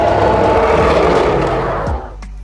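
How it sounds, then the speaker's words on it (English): Deep-pitched dinosaur growl from the Dinosaur Simulator game, a loud, rumbling, rough roar already underway, sustained for about two seconds before trailing off abruptly. "Alright, finally for the growl."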